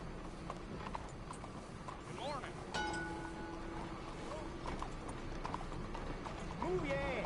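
Horse hooves clip-clop in the Red Dead Redemption 2 video game, a steady trotting rhythm mixed with other game sounds. Speech is faint underneath.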